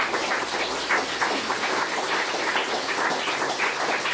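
An audience at a Startup Grind Munich evening talk breaks into applause, a steady wash of many hands clapping at an even level for about four seconds, with no voices over it.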